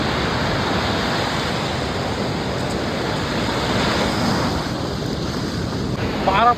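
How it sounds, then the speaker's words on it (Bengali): Strong sea waves at Puri beach make a loud, continuous roar of surf, mixed with heavy wind buffeting the microphone, steady throughout with a brief swell near the end. "মারাত্মক লেভেলে ঢেউ।"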